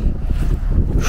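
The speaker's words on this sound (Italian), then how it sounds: "C'è un vento incredibile" Strong wind buffets the microphone outdoors during a dowsing-rod and metal detector test, giving a loud, close, gusty rumble that rises and falls without pause.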